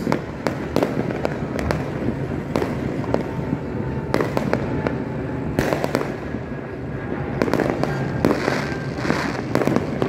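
New Year fireworks burst continuously, a dense barrage of loud cracks and booms overlapping with crackling, some near and some farther off.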